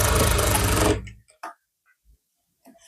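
A sewing machine stitches a joining seam on a blouse in one loud, dense burst of about a second of rapid mechanical whirring, then stops, leaving a few faint clicks and handling taps.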